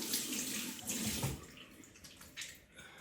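Tap water runs steadily into a bathroom sink while a face is rinsed with clear water, a continuous close splashing with small surges and no talking.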